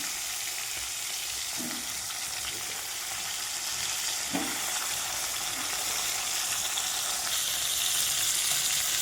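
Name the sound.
tilapia fish frying in hot oil in a wok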